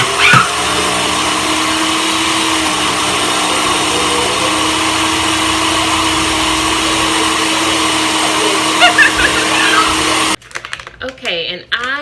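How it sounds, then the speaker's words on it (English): Kitchen blender whirring loudly and steadily for about ten seconds, then cutting off, followed by scattered handling noises. "I turn on the blender."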